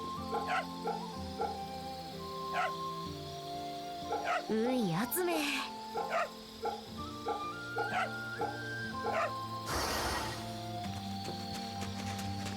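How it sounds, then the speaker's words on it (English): A dog barking and yipping in the samurai video game Fate/Samurai Remnant, a few short yips and a whimper over game music, with a voice talking alongside. "Wouldn't want to let a dog go unpet."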